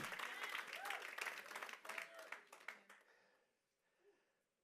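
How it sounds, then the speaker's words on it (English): Church congregation claps for a member, a burst of lively applause with some voices mixed in, fading out after about three seconds to near quiet. "Give Jordan Sapino a big clap."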